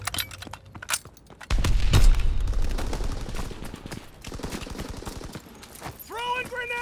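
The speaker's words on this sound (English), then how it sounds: "Taking heavy fire!" Heavy gunfire in Call of Duty WW2 team deathmatch: rapid automatic bursts and sharp shots crackle near and loud, with a heavy impact in the middle and a voice shouting near the end.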